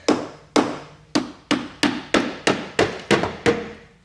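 A hammer strikes a part on a Ford Crown Victoria about ten times in a steady rhythm, each sharp, ringing metal tap close and loud, with brief decay between blows.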